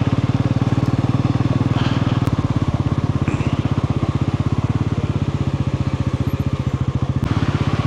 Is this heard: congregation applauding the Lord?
no